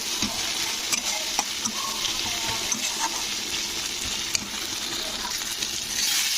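Chopped tomato and a green chili sizzling in hot oil in a pan for a Bengali katla fish head and pumpkin ghonto, with steady frying hiss and occasional scraping stirs, close and continuous, no talking.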